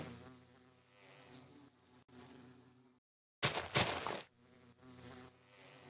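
Bees in the video game Minecraft buzz in a close, continuous drone that cuts out briefly and then returns louder for a moment before settling back.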